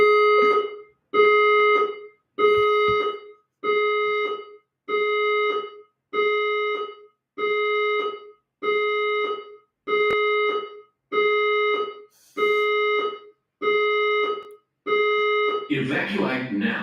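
A building fire alarm test sounds as about a dozen loud, evenly spaced tonal horn blasts, each lasting roughly a second, ending in a rougher burst of noise.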